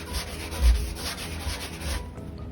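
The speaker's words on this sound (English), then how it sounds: "just continue to sand, making it nice and smooth" Hand sanding a drywall patch over a nail pop, a steady scratchy rubbing that repeats in quick back-and-forth strokes, close and fairly loud, with no voices.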